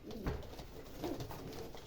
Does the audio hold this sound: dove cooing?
yes